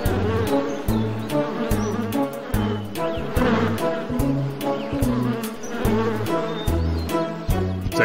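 Cartoon bees buzzing around a honey source, a loud, busy swarm drone pulsing in short repeated bursts with a rhythmic low thumping beneath, close and continuous throughout.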